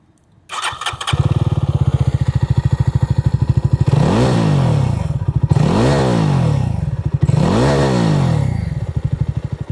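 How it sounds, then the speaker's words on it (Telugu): A Jawa 42 Bobber motorcycle fires up, settles into a loud, thumping idle right at the exhaust, then gets revved three times in even succession, each rev rising and falling back to idle. "ఒకసారి ఎగ్జాస్ట్ వినిపిస్తాను చూడండి."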